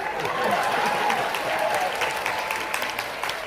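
Steady applause from an audience at an acro cats show, a dense wash of clapping throughout with some crowd murmur underneath.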